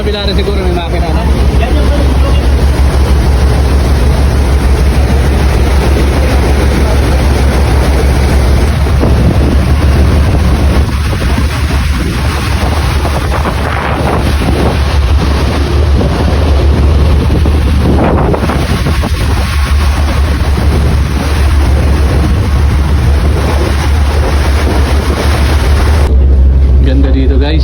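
Engines of a passenger ship running while aboard, a loud constant low drone with steady wind and water noise over it, and people talking faintly in the background.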